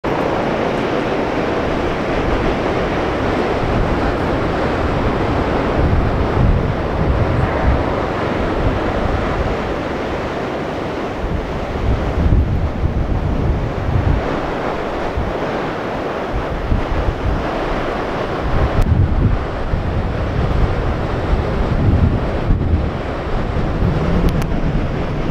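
Ocean surf rolls and breaks continuously on a snowy Oregon coast beach, with heavy wind buffeting the microphone throughout and no voices.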